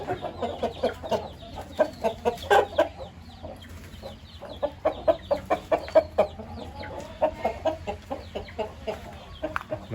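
Fighting chickens (game fowl) on a rural Thai farm cluck in a steady stream of short, clipped calls, several birds overlapping nearby with a pulsing rhythm.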